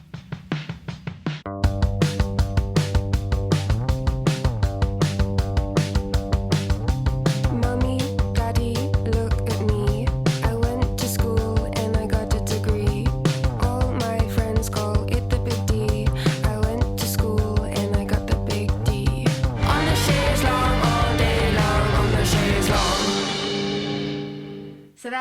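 A single plays on the radio as a full band track, with a steady driving beat and guitar running loud and unbroken from the start to a fading end.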